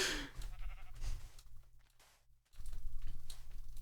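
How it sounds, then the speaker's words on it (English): Sheep bleating in Minecraft, a wavering bleat heard amid game sounds and light keyboard tapping, a quiet gap midway, no talk. "I'm gonna start killing sheep."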